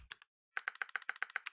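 Computer keyboard typing clicks close up: a short burst of keystrokes, a brief pause, then a fast, even run of crisp clicks, with no voice.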